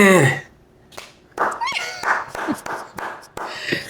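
A person claps their hands several times in quick, sharp, close slaps, scattered between bits of talk and vocal sounds.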